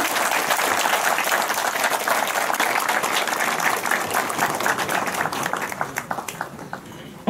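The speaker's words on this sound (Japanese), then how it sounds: "皆様どうか盛大な拍手をお願いいたします。" A crowd at a Japanese festival ceremony for a newly built yagura float gives sustained, energetic applause that fades out near the end before a brief knock.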